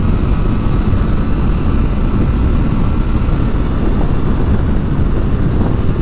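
A Triumph Tiger Sport 660 motorcycle engine runs with a loud, constant roar, heard close and steady throughout with no talking.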